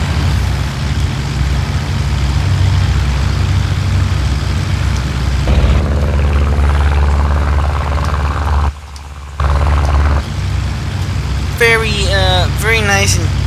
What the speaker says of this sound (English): Very nice and detailed aircraft for those of you who are looking for a Dragon Rapide.